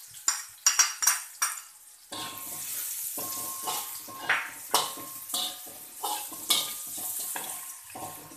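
Chili tossed into a hot pan and stir-fried for spicy tofu: a few sharp clanks of a utensil against the pan, then steady sizzling with repeated scraping stir strokes, close and fairly loud.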